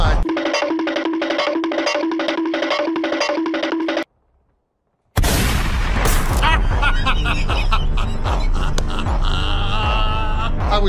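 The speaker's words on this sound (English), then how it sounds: "That's eight snipers shooting in this one position." Rapid sniper rifle fire from several shooters in a first-person shooter game, loud cracks and booms crowding together after a short gap of silence, with a steady rhythmic game music loop running beforehand.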